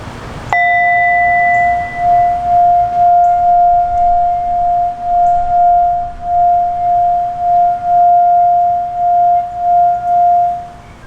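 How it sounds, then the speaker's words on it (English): A singing bowl is struck once and then rings on alone for about ten seconds, a steady pure tone with faint overtones and a gentle slow waver in loudness, heard close and clear. "So we'll start off with the singing bowl"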